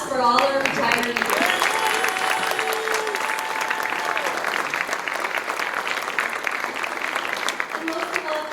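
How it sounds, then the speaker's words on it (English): An audience at a retirement ceremony applauds retirees with dense, sustained clapping that fills a large room at an even level for several seconds, with brief tones and a voice near the start. "one more round of applause for all our retirees."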